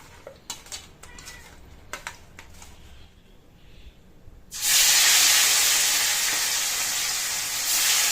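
A few light clicks and taps, then a loud burst of sizzling as fish hits hot oil in a pan, hissing steadily and close until the end.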